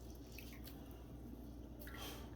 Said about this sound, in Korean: 물기를 쫙 짜내고 세수부터 한번 해볼게요